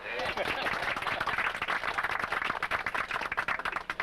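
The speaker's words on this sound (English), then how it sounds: "So let's give him a clap." A tour group on a 1999 trip in Israel claps for their guide: brisk, close, dense clapping from a handful of people runs the full four seconds without talk.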